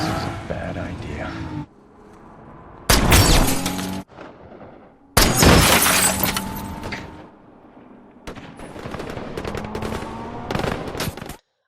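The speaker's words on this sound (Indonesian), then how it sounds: "dia mengandalkan suara tembakan dari musuh tersebut" Enemy gunfire in a film action scene: loud, sharp bursts of shots erupt in separate clusters between quieter stretches, with talk and vehicle noise in between.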